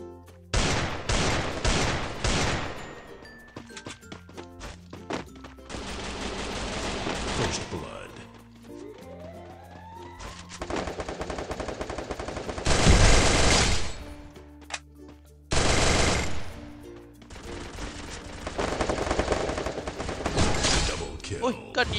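Rapid bursts of automatic gunfire from teams shooting in the Free Fire battle game, loud and close, arriving in several dense volleys separated by brief lulls, with a voice talking in between.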